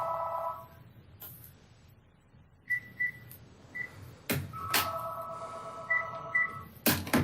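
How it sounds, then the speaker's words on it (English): A telephone rings during a Palm Beach County public meeting, giving several short electronic tones and chirps in bursts, separated by brief clattering handling sounds, with no talking. "The phone rang right in the middle of that."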